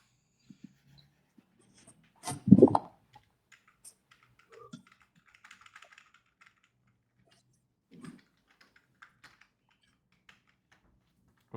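Sparse taps and clicks of typing on an external computer keyboard in a quiet room, with one louder thump-like burst near the start and faint scattered keystrokes afterward.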